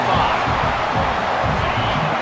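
Penn State and Oregon fans roar steadily in a packed football stadium, a loud, continuous wall of crowd noise with faint speech mixed in.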